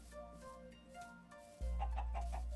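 Minecraft chickens clucking in short bursts in a game world, a few soft repeated clucks mid-distance over a low steady background hum.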